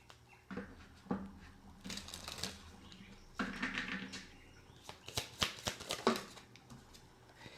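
Tarot cards shuffled and pulled from a deck up close, with quick papery riffles and flicks in several bursts, fairly faint and with no talking.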